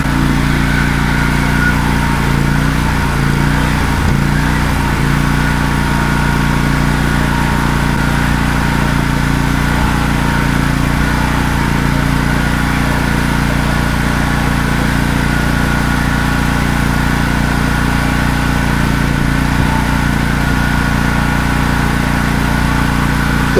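A Wacker portable generator engine runs on its own with a loud, steady mechanical drone and low humming throb that holds even for the whole stretch, with no talking.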